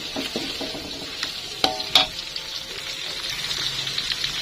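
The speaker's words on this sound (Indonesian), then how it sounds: "Tumis bawang putih dan bawang merahnya sampai agak matang ya." Garlic and shallots sauté in a hot pan with a steady bright sizzle, broken by a couple of sharp clicks of a utensil stirring against the pan.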